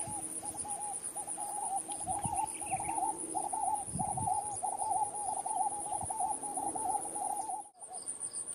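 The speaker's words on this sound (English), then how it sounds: "The characteristic call of vinaceous dove seemed to be everywhere." A vinaceous dove calls repeatedly in Gambian countryside, a rhythmic series of cooing notes running steadily through the scene at moderate distance, over constant high insect buzz and light background noise, with no one speaking.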